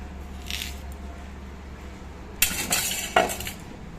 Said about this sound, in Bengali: এবার আলুগুলো লম্বা করে কেটে নেব